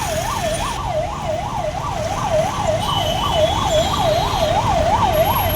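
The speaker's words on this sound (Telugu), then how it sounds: "ఎమర్జెన్సీ సైరన్ రాగానే ఎలా పోతామో మన అసలు మన స్టాఫ్ చూపిస్తారు" Emergency siren sounded during a police blast-response drill, a loud wailing tone rising and falling rapidly and steadily over low outdoor rumble, with no talk.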